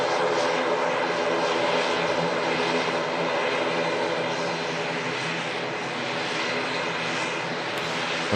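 An ATR turboprop airliner arrives from Newquay, and its propeller engines make a loud, continuous droning roar nearby. The sound stays steady and sustained through the whole stretch with no breaks.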